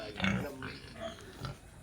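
Potbelly pigs at a wildlife rescue and conservation park grunt and snort up close, with a few short, rough grunts spaced unevenly over a low background.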